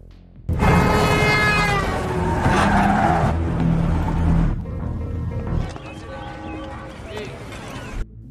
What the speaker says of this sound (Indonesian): Tapi karena tidak fokus mengendara sambil menulis, mobil John hampir saja tabrakan.